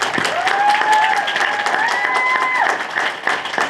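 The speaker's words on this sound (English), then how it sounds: "Let's give a round of applause for our 3 GMS winners as well" An audience at an 8th grade recognition ceremony applauds award winners with sustained, dense clapping close by, and a rising whistle cuts through the middle of the ovation.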